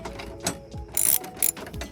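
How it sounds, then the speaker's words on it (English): A hand ratchet snugs down a metal bolt on a CravenSpeed Platypus license plate mount, giving two quick bursts of rapid clicking among soft handling knocks, close up. "then you're going to tighten it up with the ratchet"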